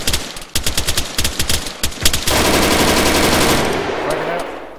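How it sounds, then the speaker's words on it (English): Rifle fire inside a building in Arma 3, with a rapid string of loud, sharp shots at a steady rhythm that gives way to a continuous roaring burst. "I got rifle fire from inside this building"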